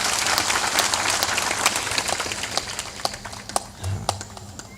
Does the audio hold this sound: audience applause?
yes